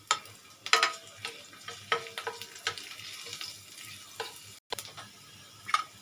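Garlic hits hot oil for a soybean Manchurian gravy, giving a crackling, spitting sizzle with sharp pops and stirring clicks scattered through, close and moderately loud, with no talking.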